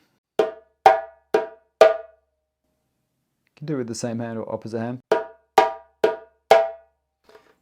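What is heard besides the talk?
djembe tone and slap strokes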